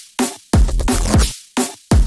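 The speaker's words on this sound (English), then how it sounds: "Now you have a really cool stabby bass." Resampled stabby neurofunk bass made in FL Studio, a few short punchy distorted hits in an uneven rhythm with sharp starts and abrupt silences between them.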